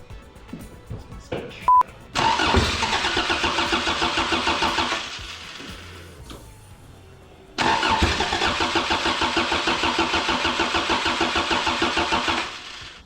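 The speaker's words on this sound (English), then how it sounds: "You need to hold it, the engine's gonna shake." A 3S-swapped race car engine cranks and fires into a loud, rapid, pulsing run, cuts out, then restarts and runs again, with clicks and a brief electronic beep beforehand and no speech over it.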